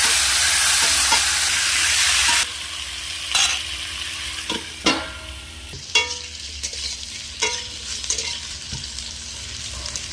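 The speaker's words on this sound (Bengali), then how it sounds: "এবার আমি এই একই তেলে লবণ হলুদ মাখানো আলুগুলো ভেজে নেব।" Potatoes coated in salt and turmeric sizzle in hot oil left from frying fish, a steady loud hiss that drops after a few seconds, with occasional stirring clinks and sputters breaking through.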